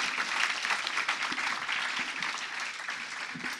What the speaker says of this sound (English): Can I really big round of applause for a great panel?